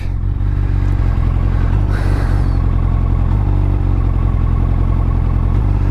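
Motorcycle engine running at idle close to the microphone, a steady loud low thrum with a brief rev near the two-second mark and no talk over it.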